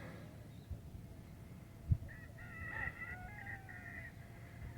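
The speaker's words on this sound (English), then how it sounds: "Don't mind the roosters." A rooster crows at a distance at sunrise, its drawn-out call rising over a quiet outdoor background with a couple of soft knocks nearby.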